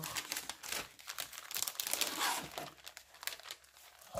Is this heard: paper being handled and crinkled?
yes